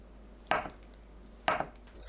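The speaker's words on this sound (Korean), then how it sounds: "두부는 한입 크기로 썰어주세요" Two distinct knife strokes cut through tofu into bite-size pieces, each a soft thud on the cutting board about a second apart, quiet and close with no talking.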